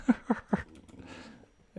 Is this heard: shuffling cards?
no